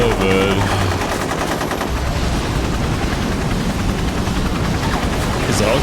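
A helicopter and continuous machine gun fire from the Disaster: Day of Crisis video game make a loud, dense roar that runs throughout without a break.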